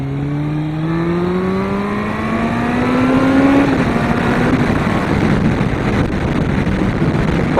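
A motorbike fitted with Delkevic 350mm stainless steel oval exhaust cans accelerating hard on the A12, its engine note climbing steadily through the rev range before a gear change, with wind roar throughout.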